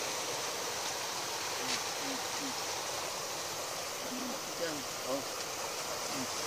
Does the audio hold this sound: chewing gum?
no